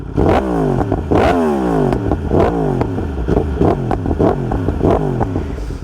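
A Yamaha R1M sport motorcycle engine revs hard again and again, each sharp blip rising and falling in pitch, loud and close with no talking.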